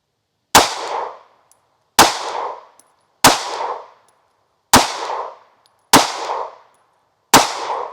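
Six evenly spaced pistol shots from a Smith & Wesson Bodyguard 2.0 firing Underwood .380 XTP rounds into denim, t-shirt layers and ballistic gel, each a loud, sharp crack with a short ringing tail and near silence between.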